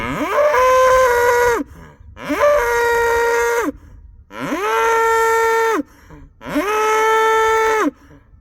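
A bull on pasture moos four times in long, loud, drawn-out calls with short gaps between them, close by and with no talk over it.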